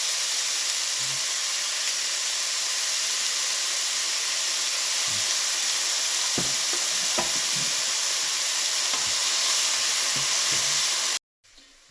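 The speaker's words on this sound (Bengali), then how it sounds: "পেঁয়াজ ব্রাউন করে ভাজা হয়ে গেছে" Onions sizzle with a steady hiss as they brown in a hot pan, broken by a few soft clicks and stirring taps, then the sound cuts off abruptly near the end.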